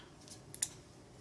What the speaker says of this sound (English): Sometimes you may have to just trim a little bit off with scissors